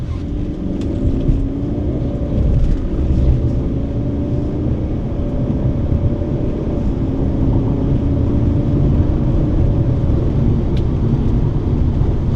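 A 2016 Mercedes-Benz E220d AMG Dynamic diesel driving in sport mode, a steady loud low engine drone and road rumble heard from inside the cabin, continuous and unbroken throughout.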